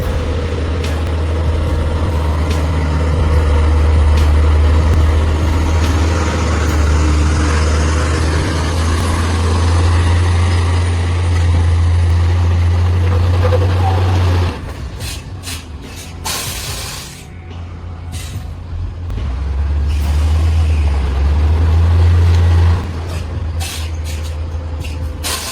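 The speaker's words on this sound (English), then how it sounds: "This Chinese truck driver is tackling a hairpin turn with an oversized load longer than a football field." A Chinese truck hauling an oversized load works around a hairpin bend, its heavy diesel engine droning loudly and steadily, dropping briefly mid-way amid hisses and clanks before the low rumble builds again.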